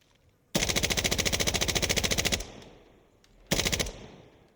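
Automatic fire from the F2000 Tactical rifle in the Insurgency: Sandstorm video game: one long, rapid burst of close, loud shots, a short reverberant tail, then a second brief burst, with no voices.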